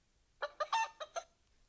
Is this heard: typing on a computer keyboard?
no